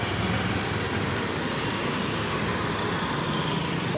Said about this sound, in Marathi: सो आतां ट्रॅफिक स्मूथ फ्लो जावपाक लागला.